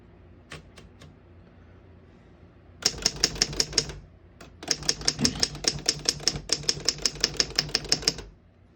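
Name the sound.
1936 Underwood No.6 antique typewriter line space and carriage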